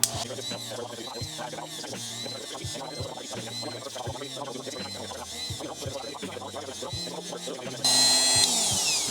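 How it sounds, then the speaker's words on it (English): A rotary polishing pad buffs scratches out of a watch bezel, producing a whirring power-tool drone with wavering pitch and some background music. The motor sound grows louder and harsher near the end. "The pad is gonna do most of the work as it's rotating. It's buffing out all the scratches on the bezel."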